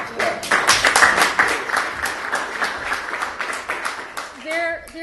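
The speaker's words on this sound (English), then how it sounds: "I want to give you a round of applause." An audience breaks into steady applause, dense overlapping claps filling the room for several seconds, fading near the end as a voice begins to speak.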